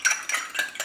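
Wasabi and soy sauce stirred together in a small dish for tuna tartare, a few quick scraping strokes of a utensil against the bowl, close and clear with no talking.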